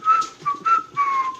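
Person whistling an imitation of the Old Spice jingle whistle: four short, clear whistled notes in a quick rising-and-falling tune, close and solo.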